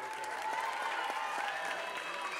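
Steady, even applause fills the rink at an ice skating gala in Covo, Bergamo, with Carolina Kostner as guest, a dense patter of many hands heard from some distance with faint voices beneath.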